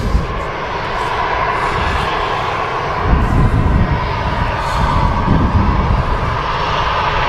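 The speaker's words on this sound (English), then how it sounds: "Etihad on final." An Etihad airliner on final approach at Manchester Airport, a steady broad engine roar swelling slightly mid-way, fairly near and continuous with no talk.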